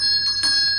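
A bell rings steadily, bright and sustained, its tone sounding continuously through the short moment with no voices.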